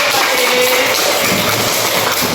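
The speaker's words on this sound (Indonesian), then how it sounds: "Bagus, kita kasih aplaus" A classroom of students applauds, and the clapping comes as a dense, loud, continuous wash that lasts a couple of seconds.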